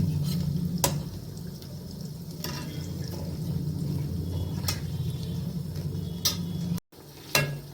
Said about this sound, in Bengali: দেখুন, এইভাবে ভাজা হচ্ছে। কড়াই অনেকটাই তেল দিয়েছি